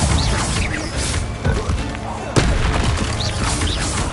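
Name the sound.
Incendio fire spell from Hogwarts Legacy video game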